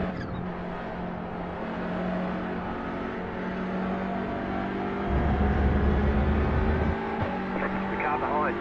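A touring car engine in a racing video game, a steady droning hum with shifting tones as the car drives, with a voice talking over it throughout.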